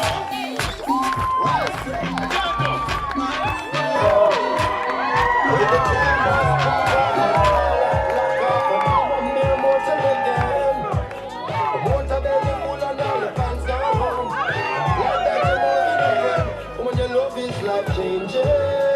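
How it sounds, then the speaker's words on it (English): Wedding reception guests give a lively, sustained welcome to a newlywed couple, with cheering, whoops and shouting rising over a busy crowd and chatter. "please help me with a warm round of applause"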